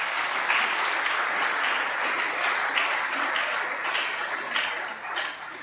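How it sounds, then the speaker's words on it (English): An audience at an RMIT University evening event applauds, a steady, dense roar of many hands clapping that lasts throughout and tapers slightly at the end. "Let's give them all a big round of applause."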